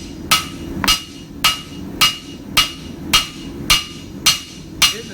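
A hammer strikes a hot chef's knife blade on an anvil during forging, eight evenly spaced loud ringing blows about two-thirds of a second apart, close by and steady, with no talking.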